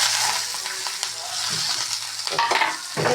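Eggs fry in a pan and are broken up and stirred, a loud close sizzle running throughout with scraping and tapping of a utensil, the stirring growing busier toward the end, with no voices.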